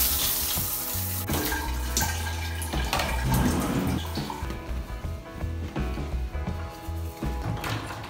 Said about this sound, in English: Time for a shower.